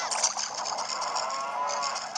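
A cow in the Nintendo 3DS game The Legend of Zelda: Ocarina of Time 3D gives a long, steady, drawn-out moo that fills the whole stretch at close range, with no voices over it.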